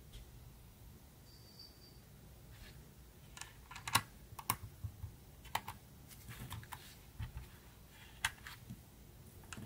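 Xbox Elite Series 2 controller parts clicking into place, a series of small, close, dry plastic clicks and taps scattered irregularly over quiet background.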